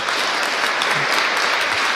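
Loud, dense audience applause for guests at a medical and therapeutic hypnosis lecture, a continuous even roar of many hands clapping close by.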